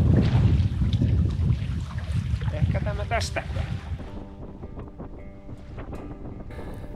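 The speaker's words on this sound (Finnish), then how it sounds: "mutta kyllä tässäkin tuulee" Wind blowing across an open lake among islands during a canoe trip, loud rumbling gusts buffeting the microphone in the first half and easing later, with a person speaking over it.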